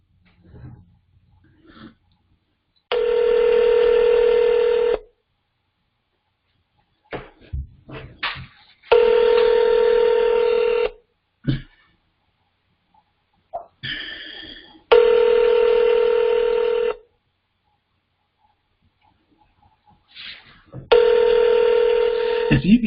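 Telephone keypad tones sound on a call to a logistics company's phone line: four long, steady electronic tones, each about two seconds, separated by quiet pauses with a few brief clicks and rustles.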